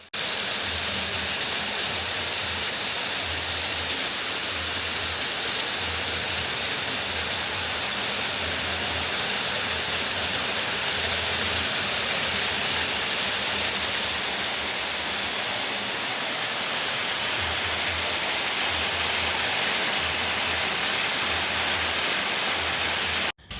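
Heavy rain pours down near a pool at a beach getaway, a loud, dense and unbroken hiss of falling water that fills the whole stretch, with no talking.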